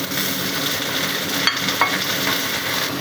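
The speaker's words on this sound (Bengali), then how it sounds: "এবার কাঁচা ঝাল বেলে মাছগুলো আমি দিয়ে দেব" Bele fish with chopped onion and green chili frying in a pan, a loud continuous sizzle with a couple of brief stirring scrapes, no voices.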